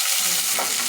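Peanuts hitting hot oil in a pan while cooking with cashews and raisins, giving a loud, close, continuous sizzle with a bit of stirring, no talking.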